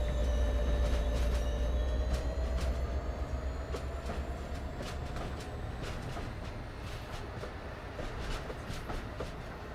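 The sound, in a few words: train running on rails in video game Train Sim World 2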